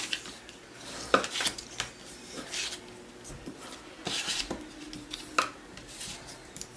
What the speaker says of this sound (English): I am going to take my bone folder and just go over them